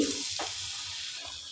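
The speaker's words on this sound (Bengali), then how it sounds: "পিঠাগুলো আমি গরম তেলে দিয়ে দিচ্ছি" Mung dal pakon pitha dumplings fry in hot oil with a steady, hissing sizzle, plus a couple of soft clicks and movements near the pan.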